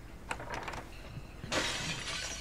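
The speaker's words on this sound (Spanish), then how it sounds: "entra rompiendo los vidrios de la ventana" Window glass smashing in a survival horror video game: a few light clinks, then a loud bright shatter that rings on for about a second, nearby and clear.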